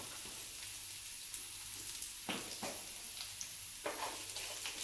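Onions and chillies sautéing in a pan with turmeric powder give a faint, steady sizzle, broken by a few soft scrapes and clinks as the mixture is stirred.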